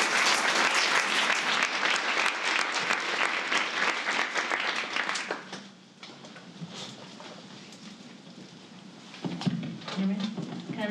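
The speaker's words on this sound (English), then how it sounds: "please give her a massive round of applause" Loud conference audience applause fills the first half, dense and sustained, then fades to scattered claps and room noise before a brief burst returns.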